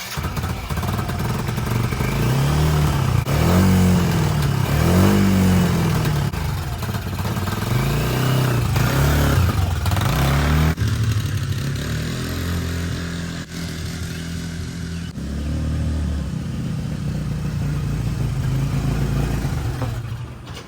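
An 11-year-dormant Kymco MXU 150 ATV engine running on choke, idling roughly with an uneven putter and a few small rises in revs, steady and close throughout.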